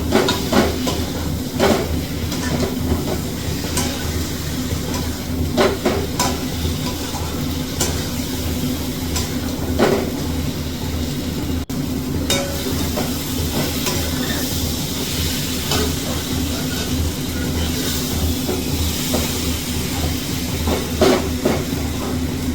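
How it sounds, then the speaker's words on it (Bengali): Fried potatoes and soybean chunks are stir-fried in a spice mix for vegetable biryani, producing a loud, steady sizzle and hiss from the pan. Occasional scraping and stirring knocks sound up close. "এবার আবারও এই মশলার সাথে কষিয়ে নেব।"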